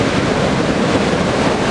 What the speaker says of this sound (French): Il y a vraiment de jolies vagues qui passent.